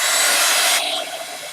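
A heat gun drying a journal page blows with a loud, close airy hiss that drops abruptly partway through to a softer steady whoosh.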